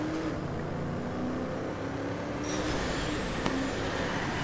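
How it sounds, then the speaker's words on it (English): Car engine and tire noise from a PS4 VR racing game during a drift, a steady, loud droning roar that shifts slightly midway, with a brief sharp knock near the end. "Oh, that was a sick drift."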